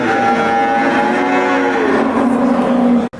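A cow at the Kastamonu live animal market lets out a long, loud, close moo that holds and wavers for about three seconds before cutting off.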